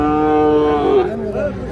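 A Sahiwal bull calf at a busy cattle market gives a long, loud, close moo that wavers and fades, with crowd murmur underneath.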